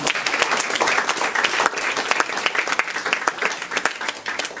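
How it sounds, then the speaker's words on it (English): A crowd applauds a brass band after its concert piece, dense steady clapping, loud and close, for the whole short stretch. "A big round of applause for them."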